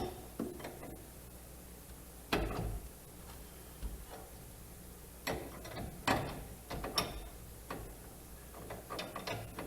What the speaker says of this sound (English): So we just need to tighten this back down.